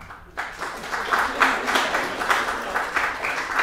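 A live show audience applauds, a dense wash of clapping that starts after a brief quiet moment and continues steadily with some swells.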